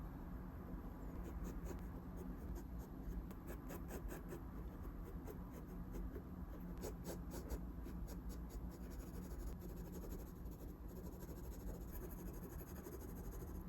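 A pencil rubs across paper while shading the face and body of a figure drawing, a faint continuous scratching with soft stroke bursts over low steady background hiss.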